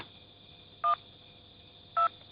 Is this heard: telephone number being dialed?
yes